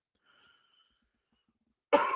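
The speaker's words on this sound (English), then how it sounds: "now this cough is starting to fucking really come back nasty" A single harsh, nasty cough bursts out near the end, loud and close, following near-silence with a faint tone; it comes from a person with a worsening cough.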